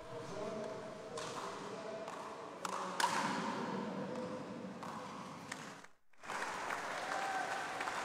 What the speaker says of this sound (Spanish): La gente aplaudiendo, ya emocionada por el inicio de esta emisión, por el inicio de este partido